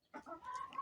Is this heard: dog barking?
no